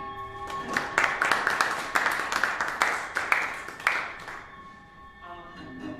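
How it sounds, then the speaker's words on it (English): Audience applause welcomes guest Emma Denney at an electro-acoustic music festival, a burst of clapping for several seconds over a steady electronic tone, thinning out and fading as music continues. "please give a round of applause to Emma Denney"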